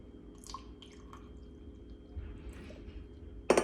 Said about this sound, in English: So we're gonna do some sweet tea in both.